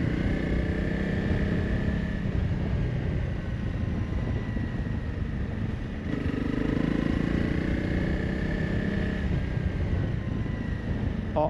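A new motorcycle being ridden: a continuous, loud engine drone with a steady tone and a slight shift in pitch partway through, heard from the rider's position with wind noise and no talking.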